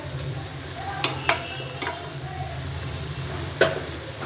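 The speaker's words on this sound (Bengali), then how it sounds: "মধ্যে একবার লাউটাকে নেড়ে নেব আমি কিন্তু কোনো জল এড করিনি এগুলো লাউ থেকে জল বেরোচ্ছে" Bottle gourd simmers in the water it releases, with no water added, and is stirred in the pot: a soft steady bubbling sizzle underlies a few sharp spoon knocks and scrapes against the vessel, close by, with no voices.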